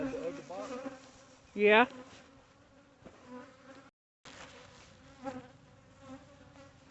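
Honey bees buzz around an opened hive during a hive split in early March, a faint steady hum close by with people talking quietly and one loud brief buzz as a bee passes near.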